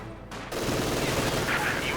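Sustained MG42 machine gun fire in the Company of Heroes 2 strategy game, a steady dense rattle starting after a brief pause and continuing loudly to the end.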